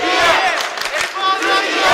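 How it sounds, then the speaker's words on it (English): A basketball crowd roars and cheers loudly and continuously at a men's European Championship quarterfinal between Great Britain and Türkiye, the noise swelling as a Türkiye player sinks a free throw. "The crowd are loving it here."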